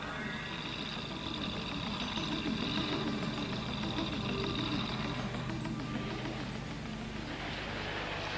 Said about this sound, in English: After drying the electrics, the engine starts, forcing out water that has entered the exhaust.